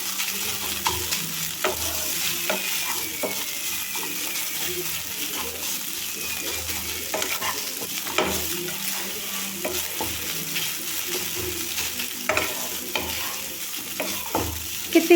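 Flattened rice (poha) stirred and dry-roasted in a pan over a low gas flame, with steady scraping strokes of a spoon against the pan and a soft continuous sizzle throughout, close by and without speech.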